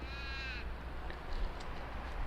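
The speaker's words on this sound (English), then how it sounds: "The crows make the most silliest sounds here." A single harsh crow caw sounds at the start, followed by quiet outdoor ambience at Rockingham Foreshore with faint distant bird calls.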